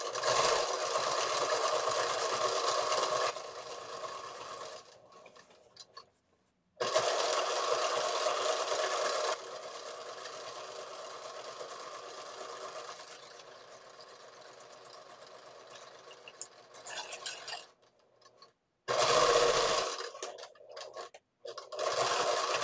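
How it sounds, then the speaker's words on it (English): Sewing machine running in bursts while stitching the side hems of an envelope pillow cover, a long steady run, a pause, another long run, then several short bursts near the end, close and fairly loud with no talk. "Now with my machine threaded, I'm ready to stitch down each of those side hems."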